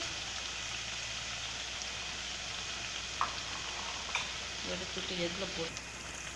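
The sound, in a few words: thattai frying on a low flame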